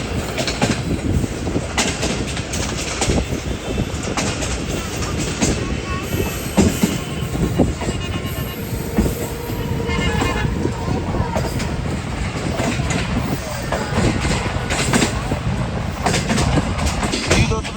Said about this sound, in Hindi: ब्रिक कलर रेलवे स्टेशन के पास से गुजर रही है ट्रेन हमारी इस वक्त।